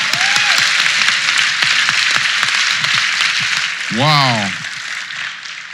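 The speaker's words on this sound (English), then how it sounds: "Give her a round of applause." Audience applause fills the room in a steady wash of clapping throughout, with a brief voice rising over it near the end.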